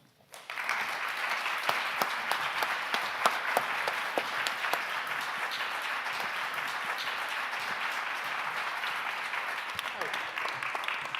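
A crowd breaks into sustained, dense applause welcoming Charley Beal and Cleve Jones at a talk on the history of the flag, steady and loud from start to finish with no voices on top.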